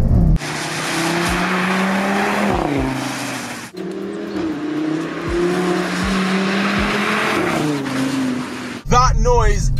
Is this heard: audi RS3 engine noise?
yes